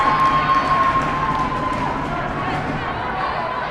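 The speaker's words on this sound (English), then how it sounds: "Even with the loud crowd that you guys hear" Crowd cheering and shouting fills a high school gym during a varsity volleyball match between Scarsdale and Mamaroneck, a steady roar beneath a commentator's voice.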